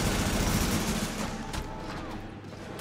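Rapid automatic gunfire in the Dark Zone of an online shooter, a dense continuous barrage heard up close and loud throughout, with no speech over it.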